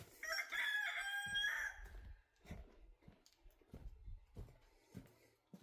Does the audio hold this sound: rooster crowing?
yes